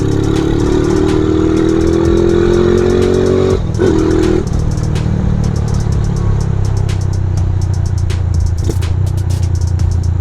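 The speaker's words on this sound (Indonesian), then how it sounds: "Test ride kita kali ini bersama CB operasional ini" A Honda CB motorcycle engine roars loud and close during a test ride, a steady throbbing drone with rising revs early on, a brief gear change and continuous wind rush.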